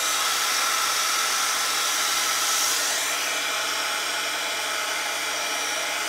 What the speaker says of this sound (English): turn on my embossing tool. I'm just going to go over the edges with this.